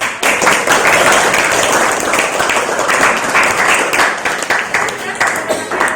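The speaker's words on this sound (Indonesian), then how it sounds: "Beri tepuk tangan untuk kita." A classroom of students claps steadily and loudly for about six seconds, dense continuous applause with voices chattering underneath.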